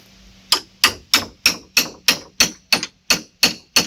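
A hammer drives a chisel to clear wood out of an axe head, about eleven sharp metallic strikes at a steady rhythm, close and loud, each ringing briefly.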